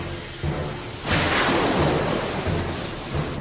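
A storm rumbles in an animated series scene, a low thunder roll swelling into a loud, broad crash with rain-like hiss, then slowly fading, with no talking.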